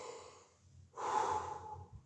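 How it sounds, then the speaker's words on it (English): A single deep breath drawn from the stomach in a breathing-technique demonstration: a soft intake followed by a fuller, louder breathy exhale lasting about a second, close and clear with no talking. "I'm breathing from my stomach."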